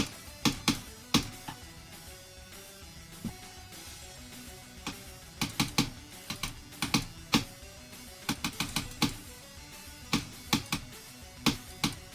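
Keys clatter on a computer keyboard in irregular bursts of clicks, close by and moderately quiet, over a faint steady background hum.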